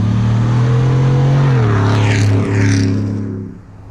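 A 650-horsepower Roush Ford F-150 pickup revs hard while its tires fight for traction, a loud, close engine roar holding steady before the pitch shifts and the sound eases off.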